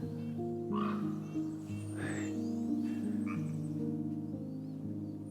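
A low, repeated croaking from a frog against steady outdoor background hum, with a few faint bird calls mixed in.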